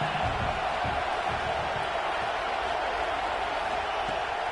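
Football stadium crowd roars steadily during an Alabama game on a 4th-down play, a dense, loud wash of many voices that holds without a break throughout.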